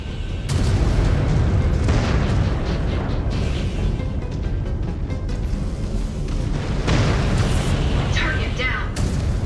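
A mech exploding in the video game MechWarrior 5: Clans, heavy continuous booming blasts and rumbling battle noise that stays loud throughout, with bursts of cracking impacts and radio voice chatter.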